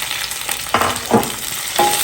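Green chillies and curry leaves frying with onions for a Jaffna-style chicken curry, a steady close sizzle broken by three louder hissing bursts as pieces hit the hot oil.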